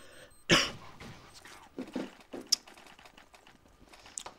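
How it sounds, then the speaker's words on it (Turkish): A single loud, harsh cough bursts out near the start, followed by a few smaller throat-clearing hacks and scattered soft bumps in a quiet room during a CS 1.6 game session. "Çok öksürüyorum abi ya."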